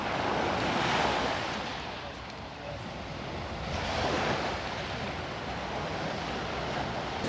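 Rough surf breaks along the shoreline at a Tayrona Park beach in Colombia, with two broad rushing surges and a steady wash of water and wind between them.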